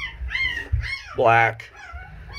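A 23-day-old Tibetan Mastiff and Akita hybrid puppy gives a brief, high, wavering whimper in the middle of the clip, close by and partly under ongoing talk.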